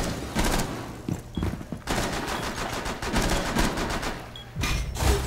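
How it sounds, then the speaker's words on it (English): Gunfire from the ceiling in a Rainbow Six Siege team deathmatch bomb round on the Kafe Dostoyevsky map, rapid bursts of automatic shots cracking in several clusters across a few seconds, loud and close. "They're shooting from the ceiling."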